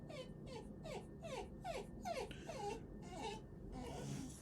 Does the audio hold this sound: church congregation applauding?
no